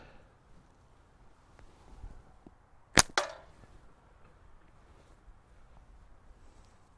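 A SimpleShot Scout slingshot fired outdoors at a target about 35 feet away: one sharp snap followed quickly by a second crack, then quiet wind and faint background.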